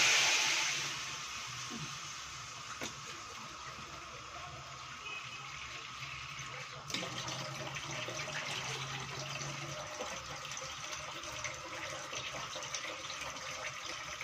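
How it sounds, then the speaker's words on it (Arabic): Tap water running steadily into a pot, a continuous gushing hiss with a slight shift in tone partway through. "ميه عاديه خالص من الحنفيه"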